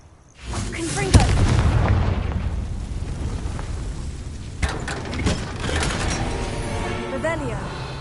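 A Confringo fire-blast spell explodes in Hogwarts Legacy, a deep booming rumble that swells and rolls on with a sharp crack near the start and more bursts later, while a voice talks over it.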